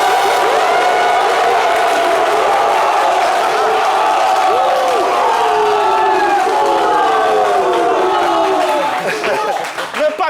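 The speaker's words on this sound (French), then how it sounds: "Ils vont s'applaudir bien fort." A studio audience at a live French-language broadcast applauds and cheers for a visiting academy group, loud sustained clapping mixed with shouts and whoops, with some voices over it, easing slightly at the end.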